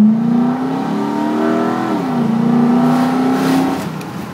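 Engine of a 2006 Nissan Titan crew cab 4x4 revving up steadily, then easing off and rising again, heard loud and close from inside the cab with the windows down, with no voices.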